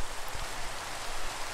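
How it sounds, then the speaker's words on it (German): Steady rain falling in the video game Minecraft, a continuous soft hiss at moderate level with no talking over it. "Das liegt aber wahrscheinlich am Regen."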